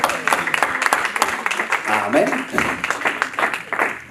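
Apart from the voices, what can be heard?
audience applause at a Bible study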